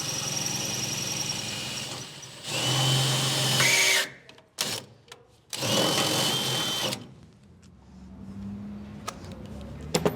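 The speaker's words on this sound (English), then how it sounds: "using your 1/4 inch drill bit, you're going to drill up through the bottom of the bed" A power drill with a 1/4 inch bit whirs in short bursts, loud and close, drilling up through the bottom of a Ford F250/F350 truck bed, with brief pauses between runs and some clatter at the end.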